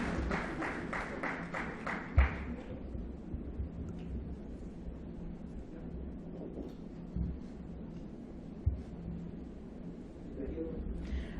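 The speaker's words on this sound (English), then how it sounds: "can we have a huge round of applause" Audience applause after a post-lunch panel discussion on the Internet of Things, starting as sharp dense clapping and then thinning into a softer, sustained patter with a few thumps, while people talk over it.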